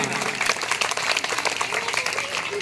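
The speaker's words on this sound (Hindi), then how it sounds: "एक बार गुरुजनों और बाहर से आए अतिथि सभी को जोरदार तालियों से स्वागत कीजिएगा।" Enthusiastic applause from an audience at a Teachers' Day honouring ceremony held in a primary school courtyard, steady and close throughout without a break.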